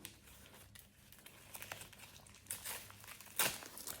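Plastic shopping bag packaging crinkling as it is opened, soft irregular rustles that grow louder toward the end with a sharp crackle near the close, no talking.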